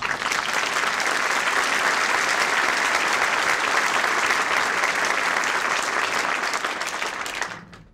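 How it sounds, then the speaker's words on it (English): Volunteers applaud themselves at a presidential event with a dense, even wash of clapping from a large audience that holds steady and then fades out at the end. "I think you owe yourselves a round of applause"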